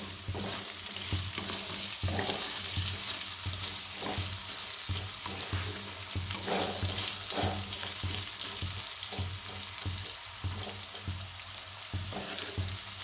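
Diced potatoes frying in hot oil with bay leaf and salt for a Bengali turnip curry, a steady close sizzle broken by repeated spatula stirs and scrapes against the pan, with no talking.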